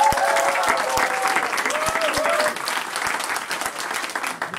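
A church congregation applauds the music director at a hymn concert event, full crowd clapping with a few loud nearby claps and some cheering voices, tapering slightly toward the end.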